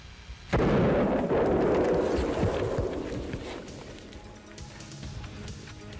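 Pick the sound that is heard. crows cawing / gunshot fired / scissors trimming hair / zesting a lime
gunshot fired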